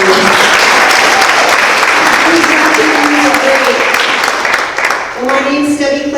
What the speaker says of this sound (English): Let's give the Chamber a round of applause for offering.